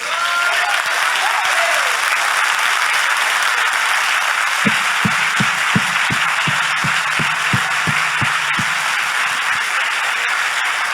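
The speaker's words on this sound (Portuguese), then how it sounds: "Vamos aplaudir Jesus?" A congregation at an early-morning holiday church service applauds in a continuous wash of clapping, joined midway by a run of about a dozen sharp, evenly spaced rhythmic claps.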